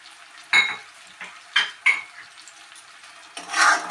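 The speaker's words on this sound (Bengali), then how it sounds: "এটা আমি কিছুক্ষণ কষাবো, কারণ টমেটোটা আমার আর একটু গলে যাবে আর মটরশুঁটিটাও আমার একটু ফ্রাই হয়ে যাবে" Fresh peas and tomato sautéing in a pan, quiet sizzling broken by a handful of distinct metal spoon scrapes and clanks against the pan, close up, no talking.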